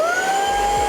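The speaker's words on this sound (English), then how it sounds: "So powering up the vacuum, you have the power button here," A Fanttik Slim V8 Apex handheld vacuum powers on with a rising motor whine that settles into a steady high-pitched hum, close and loud.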